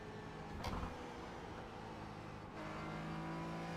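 Race car engine holding a steady full-throttle drone on the Interlagos circuit in a racing game, with a brief louder burst early on and a slight shift in tone near the end, no voices.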